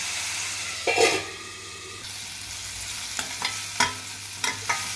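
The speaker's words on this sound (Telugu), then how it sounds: "టమోటో ముక్కలు ఇందులో వేసేసుకొని అవి కూడా బాగా వేగేలాక మూత పెట్టి బాగా ఫ్రై చేసుకోవాలి" Tomato pieces fry with onions in a pan for a gongura egg curry, a soft steady sizzle marked by a few spoon scrapes and taps as they are stirred.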